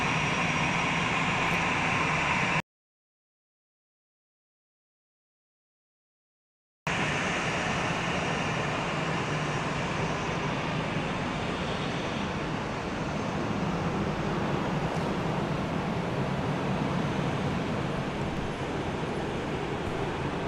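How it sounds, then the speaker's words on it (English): Airbus A321 landing at Houston Intercontinental Airport, a steady distant roar of jet engines across the whole stretch, broken by one short gap of silence. "It's an Airbus A321 just touched down from home base in Atlanta."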